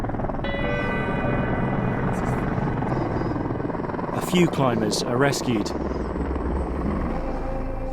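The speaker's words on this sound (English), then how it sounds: "It's 24 hours before we see our first helicopter." A helicopter drones steadily in the background on Mount Everest after an earthquake, rotor buzz constant throughout, while a narrator speaks over it.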